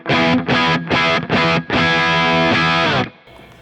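A Gibson Les Paul electric guitar on its bridge pickup plays loud, heavily distorted chords: four short stabs with brief gaps, then one long ringing chord that cuts off cleanly.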